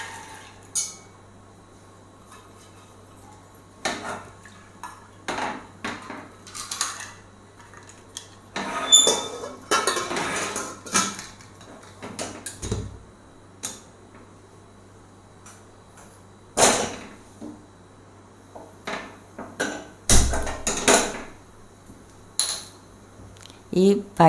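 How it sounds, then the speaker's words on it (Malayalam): Beans dropped into a pot of water for Kerala chakka vanpayar erissery, heard as scattered clattering pot and utensil knocks over a steady low hum, with bursts of handling noise. "ഇനി അതിലേക്ക് നമുക്ക് ഈ പയർ ഇട്ട് കൊടുക്കാം."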